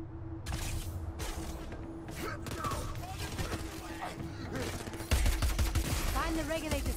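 Rapid automatic gunfire from the player's gun in the video game Crackdown 3, bursts of shots over game music and background effects, with a heavier burst near the end.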